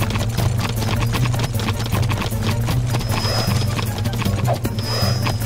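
Leaper mounts racing in Jak 3, a rapid galloping clip-clop of many feet close by, with animal whinny-like calls and a steady rumble throughout, no voices.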